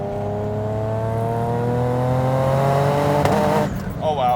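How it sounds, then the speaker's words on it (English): A 950 HP twin-turbo Nissan 350Z engine with dump valves open revs and holds a rising whine, then drops off with a brief burst of fluttering turbo noise near the end. "with the dumps out, then you hear the turbos"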